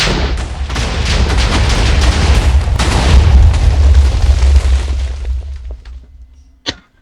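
A large explosion in the Minecraft-style game of a survival multiplayer server, a loud deep booming blast with rumbling debris that fades over about six seconds, followed by a brief sharp pop.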